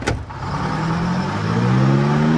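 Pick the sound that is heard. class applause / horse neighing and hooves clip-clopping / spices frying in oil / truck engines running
truck engines running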